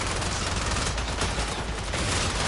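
Heavy gunner enemies in the video game Warframe blast away in a dense, continuous barrage of rapid gunfire, loud and close, with no pauses across the whole stretch.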